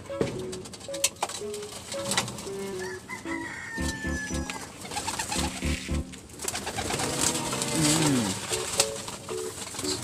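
Pigeons coo and flutter while being fed in an outdoor loft, with scattered bird calls, wing noise and a rooster crowing in the background under faint voices.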